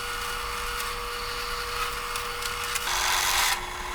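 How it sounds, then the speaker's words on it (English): A drill press drilling steel: a steady machine whine with a constant tone under grinding noise, rising to a harsher, louder grind near the end before easing off. "first the two smaller holes get drilled out on the drill press."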